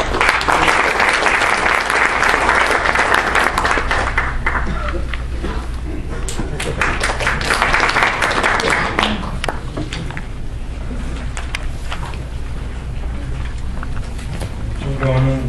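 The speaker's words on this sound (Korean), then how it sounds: "큰 박수로 맞아주시면 감사하겠습니다." Audience applause welcoming a speaker at a Korean defense development symposium: a dense, loud, sustained wash of clapping that fills the whole stretch and thins slightly toward the end.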